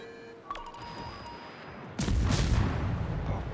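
Ship guns fire in a naval combat video game, a loud, heavy broadband boom that erupts partway through and rumbles on after quieter tonal game sounds.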